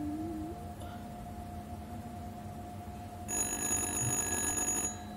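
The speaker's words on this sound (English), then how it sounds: "Answer the goddamn phone!" An old telephone rings in the horror game Little Hope, a steady electronic bell tone held over a low droning ambience, then swelling louder and brighter for a second and a half before it cuts off.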